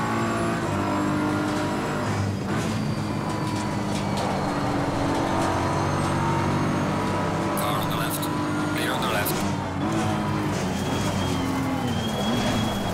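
Race car engine droning steadily in Assetto Corsa Competizione, a continuous loud whine with shifting revs, gear changes and brief surges, racing alongside a BMW and a Ferrari at the start of a 45-minute race, with someone talking over it.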